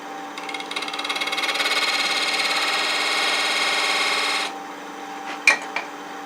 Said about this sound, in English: Let me just put one tiny little V-groove out near the rim.